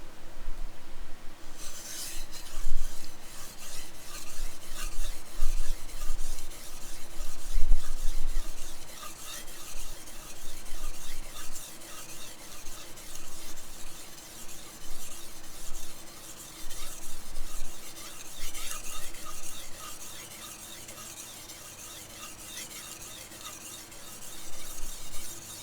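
Steady back-and-forth scraping of a knife blade across a cheap budget 400/1000 grit whetstone, a continuous gritty rasp with rhythmic strokes, close and fairly loud throughout, no talking.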